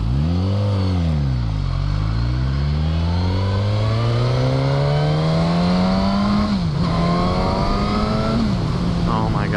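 A 2016 Suzuki GSX-S1000 motorcycle engine pulls hard from low RPM, its loud, close, buzzing tone climbing steadily in pitch, with a brief dip after about seven seconds before rising again.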